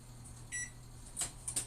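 A kitchen oven timer, set while baking a cheesecake, gives one short electronic beep over a low background hum, followed by faint knocks.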